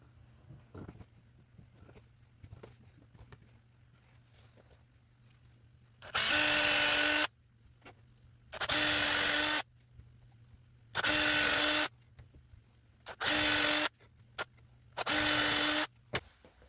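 A power drill boring screw holes into a wooden bass guitar body, with five loud whirring bursts of about a second each and short pauses between them, following a quieter stretch of faint handling noises.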